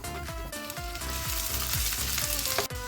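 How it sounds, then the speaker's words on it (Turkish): Walnuts and garlic frying in oil in a pan while making pesto spaghetti, giving a steady close sizzle with stirring scrapes throughout, over soft background music. "cevizleri ilave ettim. Bunlar yağda hafif bir aromalarını yağ bıraksınlar."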